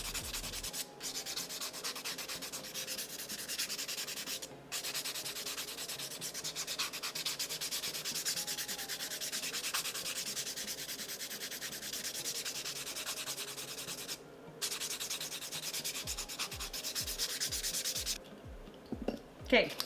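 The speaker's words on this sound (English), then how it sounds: "I'm going to use a buffing block to buff the nails." A buffing block rubs back and forth across fingernails in steady, close, continuous strokes for about twenty seconds, with a few brief pauses and no talking.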